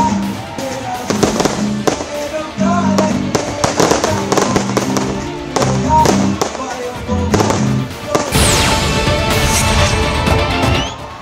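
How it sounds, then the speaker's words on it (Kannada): Fireworks burst at a midnight New Year celebration with a series of loud cracks and pops, becoming a dense crackling barrage toward the end, while voices are heard underneath. "ಮಧ್ಯರಾತ್ರಿ 12 ಗಂಟೆಗೆ ಪಟಾಕಿ ಸಿಡಿಸಿ ಸಂಭ್ರಮಿಸಿದ್ರು."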